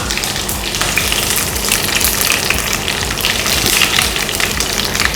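Curry leaves hit hot oil while tempering with mustard seeds and dried red chillies, producing a loud, dense crackling sizzle with sharp spits and pops throughout, close and steady, with no talking.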